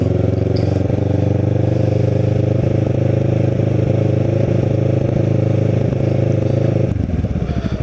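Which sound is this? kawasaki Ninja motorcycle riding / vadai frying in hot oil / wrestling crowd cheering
kawasaki Ninja motorcycle riding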